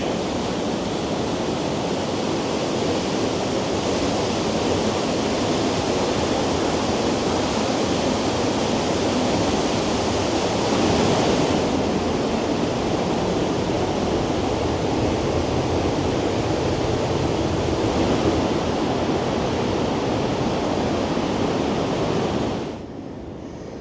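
A waterfall in Switzerland's Lauterbrunnen valley roars as a loud, steady broadband rush that holds for about twenty seconds and then drops off abruptly near the end.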